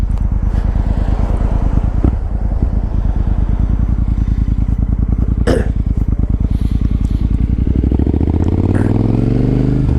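A 2013 Triumph Thunderbird ABS motorcycle engine runs close by with a rapid, loud pulsing throb, climbing in pitch near the end as it revs, with brief wind buffets.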